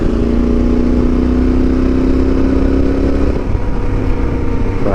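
A Yamaha Super Tenere motorcycle engine drones loudly and steadily while riding at around 3,000 RPM or more, with a held pitch that shifts slightly near the end under rushing wind.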